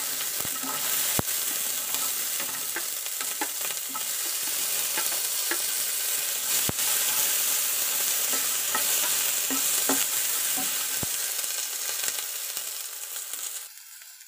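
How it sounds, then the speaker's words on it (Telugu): Green chillies frying in hot oil for a tomato roti pickle, giving a steady broadband sizzle with scattered crackles and spoon-stirring clicks throughout, ending abruptly near the close. "పచ్చిమిర్చి వేయించుకుందాం."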